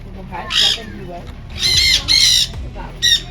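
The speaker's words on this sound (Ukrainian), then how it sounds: "Ну, піратські папуги." Pet parrots squawking loudly and close by in a home, several harsh raspy calls in bursts with pauses between, while a person talks softly underneath.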